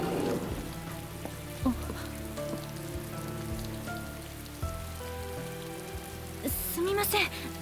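Steady rain falls in an anime scene, a constant patter running under background music with a few brighter splashes near the end.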